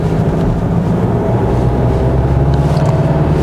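2021 Kia Sorento 2.2 diesel 4WD pulling away on a winding road, a steady loud low engine drone heard from inside the cabin with no talking.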